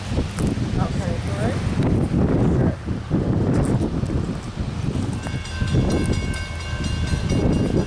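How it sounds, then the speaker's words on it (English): A freight train rolls past at Deshler, Ohio on the Willow Subdivision, its wagons rumbling and clanking close by with gusty wind noise, a tonal horn-like sound near the end, and voices talking over it. "This will be our last train at Deshler, Ohio"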